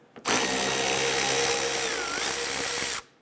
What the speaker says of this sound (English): Right behind your rear wheel, there's a 10mm screw right here.